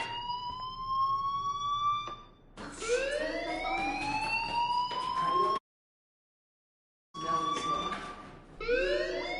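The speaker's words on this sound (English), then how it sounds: "do you hear that fire alarm?" A school fire alarm in the Life is Strange video game wails in repeated rising electronic sweeps, loud and insistent, cutting out briefly to silence before sounding again.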